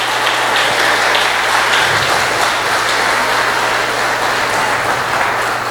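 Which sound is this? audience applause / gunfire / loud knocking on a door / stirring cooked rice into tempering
audience applause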